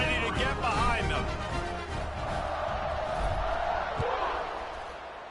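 A stadium crowd roars with cheers and shouts just before a college football kickoff against Clemson, a loud continuous wall of noise with a voice speaking over it.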